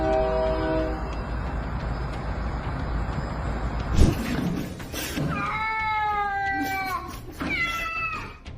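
A cat gives several drawn-out, wavering meows in a row, following a loud steady horn and a sudden thump.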